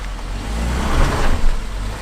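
A Subaru Outback's engine roars under full throttle while driving off-road, a close, loud rumbling surge with slight swells throughout the short burst.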